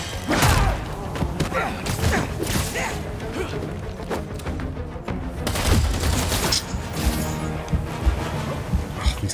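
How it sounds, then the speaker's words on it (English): Enemy gunfire rattles in Spider-Man 2 on PS5 as rapid bursts of shots and heavy thuds crack repeatedly over a busy, dense combat mix, with a loud cluster near the start and another around the middle. "These guns are so annoying."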